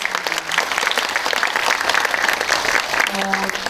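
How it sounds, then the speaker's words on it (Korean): An audience at a film screening Q&A applauds warmly, a dense, sustained crowd of clapping hands that fills the room, with a faint voice coming through near the end. "박수 한번 부탁드리겠습니다."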